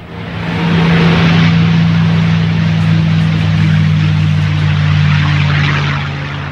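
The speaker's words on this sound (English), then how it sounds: "Giving his engines full throttle," Engines of a Doolittle bomber running at full throttle during takeoff from an aircraft carrier deck, a loud, sustained droning roar with a steady low hum that swells in and holds before easing slightly at the end.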